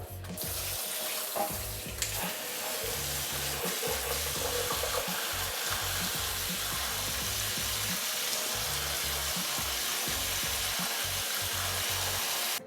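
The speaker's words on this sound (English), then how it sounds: "So let's go water this one and I'll just put it back and see what happens." Tap water running steadily and splashing while a houseplant is watered indoors, a continuous loud wash with small sloshing variations throughout and no talking.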